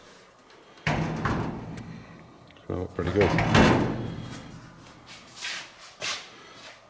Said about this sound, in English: And the door shut's really nice